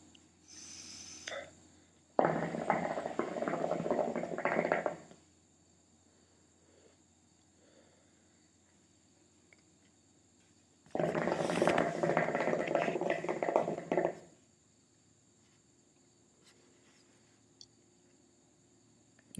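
Water in the base of a Hookahpro Hydro Hurricane hookah bubbles hard in two long draws of about three seconds each, close and loud, with near silence and faint background hum between the pulls.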